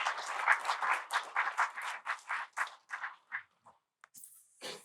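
Applause from a book launch audience for Dr. Vikram Sampath's work 'Waiting for Shiva', a dense burst of clapping that thins out over a few seconds and fades to scattered claps before silence.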